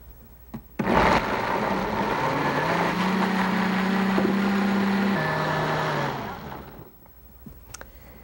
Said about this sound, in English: We'll whiz these up in our blender